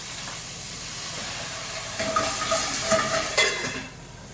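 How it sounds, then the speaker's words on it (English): Spigarello greens steam-sautéing in a hot pan after a splash of water, a steady sizzle and hiss that swells from about two seconds in, with brief crackling bursts, close and fairly loud, no voices. "This is a quick steam cook saute."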